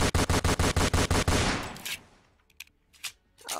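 AK-47 assault rifle fire in the Roblox Fortnite video game: a rapid, evenly spaced burst of about ten loud shots, then fading echoes and a few scattered faint sounds.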